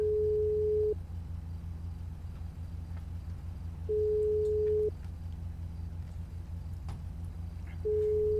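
A phone ringback tone sounds during an unanswered call, with steady one-second beeps repeating about every three seconds over a low background hum.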